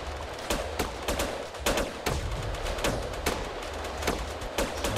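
Rapid gunfire in the multiplayer game GTA San Andreas (SA-MP) during a team deathmatch event, with dense bursts of shots cracking in quick succession throughout, loud and continuous with no talk.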